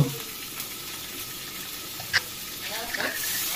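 Onion, garlic and ginger paste frying in oil, a low steady sizzle with a sharp clink of the utensil partway through and a few light scrapes, close and moderate.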